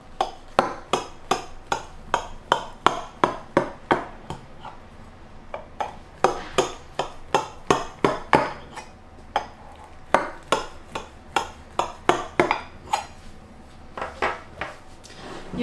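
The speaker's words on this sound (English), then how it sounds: "Now I'm going to cut it. So run the knife through." A knife cuts through a cottage pie of potato and meat layers in a dish, making a long series of close, sharp clicks and taps against the dish at an uneven rhythm.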